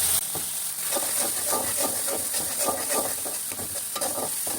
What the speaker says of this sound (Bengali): এগুলো দিয়েও ভালো করে কষিয়ে নেব